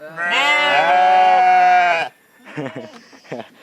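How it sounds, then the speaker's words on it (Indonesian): Sheep bleating in a pen in a village, one long loud wavering bleat close by, then a pause before a burst of fainter, choppier sounds. "Ternyata di sana teh masih ada kandang domba."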